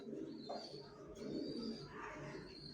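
Soft cooing from pigeons kept in a loft forms a faint, continuous low murmur, with a few brief higher chirps drifting through and nobody speaking.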